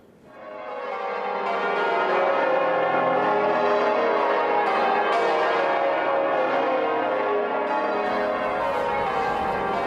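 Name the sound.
peal of church bells in Liverpool Cathedral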